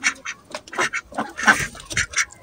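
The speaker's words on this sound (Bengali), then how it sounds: "এখন 3টা নতুন মেহমান যোগ করার পর মোট হাঁস হয়েছে 9টা" Several domestic ducks quack in repeated short bursts at close range, calls overlapping irregularly with no talking, part of a flock of nine kept at a home in the evening.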